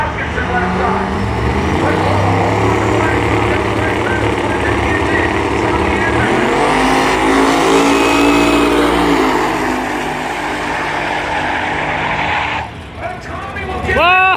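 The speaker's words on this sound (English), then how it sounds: "that's a diesel-powered Chevelle, and it has been in the 8-second range as a legal drag-and-drive vehicle" A diesel-powered Chevelle drag-and-drive car launches down the strip at a Christmas-season drag racing event, its engine roaring loudly and steadily with rising revs, under an announcer's voice and ending in a sharp tire chirp.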